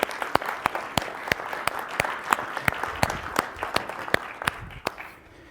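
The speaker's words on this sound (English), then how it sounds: "let's give them a round of applause" Steady applause from a small crowd, with sharp individual claps standing out over a continuous patter, no voices.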